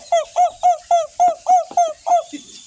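A horned bird gives about eight loud, evenly spaced yelping calls in quick rhythmic succession, close by, ending with a softer trailing note.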